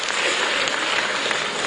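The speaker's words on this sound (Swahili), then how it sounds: "Wapigie tena makofi mengi sana sana" An audience at a SADC ministers' meeting gives sustained applause to the SADC executive secretary, a dense, even clapping throughout.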